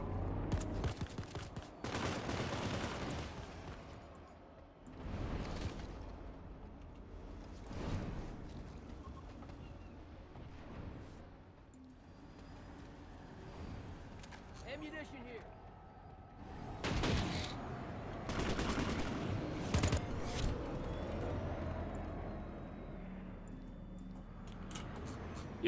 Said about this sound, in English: the Exodus PPCs are like auto-aim cannons that will just blap anybody who gets too close